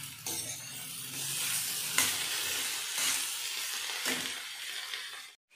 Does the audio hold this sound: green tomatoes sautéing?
yes